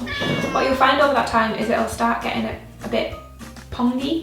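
A pet cat meows repeatedly from a corner of a home kitchen, the calls rising and falling beneath a person talking steadily over them.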